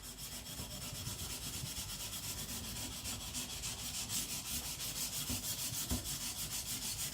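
A Patrik Carlvik custom K-tip gyuto in AEB-L steel at HRC 66 is stroked on a sharpening stone, giving close, rhythmic gritty rasps in a steady back-and-forth of about three strokes per second, with no talk.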